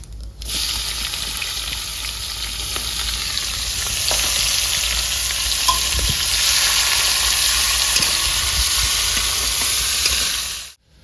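Sliced onion, dried red chillies, whole cumin and black cumin sizzle in hot oil, a steady, close, bright frying hiss lasting about ten seconds with faint stirring ticks and no talking.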